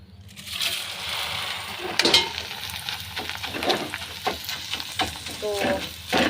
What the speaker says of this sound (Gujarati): પૌવા તળું છું